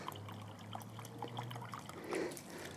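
Water drains out the bottom of a tropical tree's container, giving a faint, soft trickle against a quiet background with no talking.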